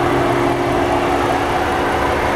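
The engine of a 2013 Ford Edge SEL SUV idles in a smooth, steady, even hum, heard close and alone.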